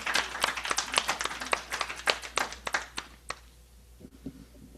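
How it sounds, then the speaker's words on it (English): A small audience claps for a musical performer, a ragged burst of individual handclaps fairly close by that thins out and stops after about three and a half seconds. "Let's give her another round of applause, please."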